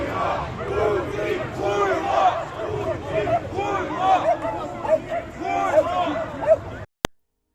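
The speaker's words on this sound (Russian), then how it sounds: "когда все люди кричали «Слава Украине» или «Нет войне»" Large anti-war march crowd chanting "Glory to Ukraine" and "No to war", many voices shouting loud rhythmic slogans in repeated waves close by, then cutting off abruptly.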